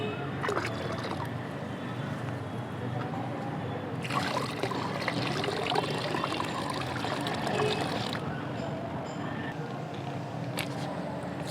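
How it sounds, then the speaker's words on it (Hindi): About two litres of cow urine pour into a tub holding roughly 22.5 litres of water, mixed as organic fertilizer for a terrace garden. It makes a steady, continuous trickle and splash that swells louder through the middle before easing off. "और ये लगभग 2 लीटर हम इसमें गौमूत्र मिलाने जा रहे हैं"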